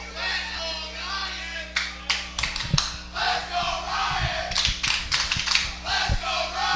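Eagles players in a baseball dugout clap and shout in scattered bursts, with sharp claps and brief yells rising and falling over a low background hum at a college game.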